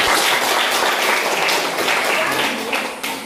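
Students clap together in a classroom, a loud, dense burst of many hands that runs steadily from start to finish, with some voices mixed in.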